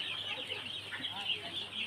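Sonali chickens clucking inside a poultry farm shed, a dense continuous chorus of many birds close by with a steady bright chatter and no speech over it.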